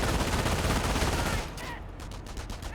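Dense, continuous automatic fire from German MG42 machine guns in the Company of Heroes battle game, loud and sustained at first, then easing into rapid bursts of shots and distant gunfire.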